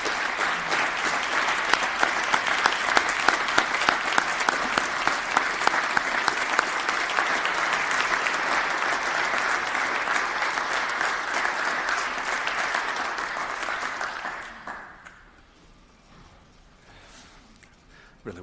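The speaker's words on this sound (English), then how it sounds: "Give me a round of applause." Sustained audience applause at a tribute honoring an assemblymember, steady dense clapping for about fourteen seconds before fading out into near quiet.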